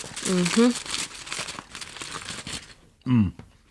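Aluminum foil crinkles and tears open from around a steak sandwich on a warm roll, in two louder bursts with rustling between them, close by, while people talk over it.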